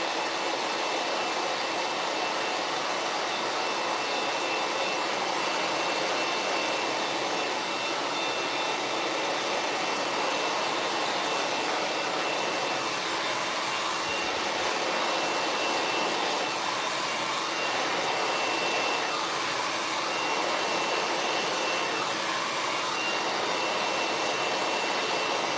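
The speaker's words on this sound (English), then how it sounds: "and then just blow dry." A hair dryer blows hair straight during a salon blow-out, a steady, loud, continuous airy roar that holds close and unbroken with no talking.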